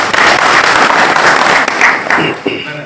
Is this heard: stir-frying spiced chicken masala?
no